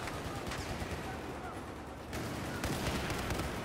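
Gunfire in the video game Battlefield 4 sounds as repeated sharp bursts and rattling shots over a dense battle din, getting louder toward the end.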